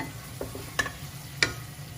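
Potatoes fry in a pan over high heat while being stirred, giving a few soft scrapes and clinks over a low, steady background.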